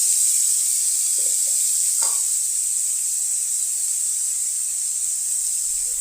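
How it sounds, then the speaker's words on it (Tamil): Elephant yam sautéing in a pan gives off a steady, fine high hiss of sizzling throughout, with a brief soft scrape of stirring partway through and no talking. "அது வதக்கி வதக்கி வதக்கி வதக்கி அந்த ஒரு ஸ்டேஜ் நல்லா ஃப்ரை ஆகிடும்."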